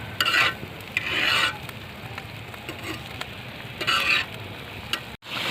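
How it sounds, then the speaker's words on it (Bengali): Chicken curry stirred in a pot over a village-style wood fire, giving repeated raspy scraping strokes of a spoon against the pot with a soft bubbling simmer underneath, close and fairly loud. "একটুখানি নেড়ে দিতে হবে"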